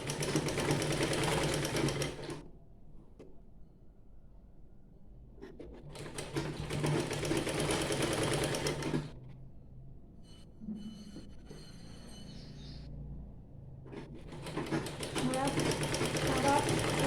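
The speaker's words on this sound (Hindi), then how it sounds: "मैं अभी यहाँ पर सिलाई लगा रही हूँ" A sewing machine stitches a collar onto a dress, running in three loud, rapid mechanical bursts of several seconds each, separated by quieter pauses with faint handling sounds.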